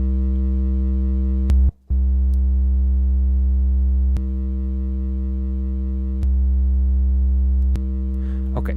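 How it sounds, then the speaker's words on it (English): A sustained synth tone from a Roland MV-8800 with its chorus effect off plays steady and loud, briefly cutting out once and shifting slightly with a few faint clicks, with no talking. "the chorus is on, so I will turn it off, and you can see over here F5 is switch off"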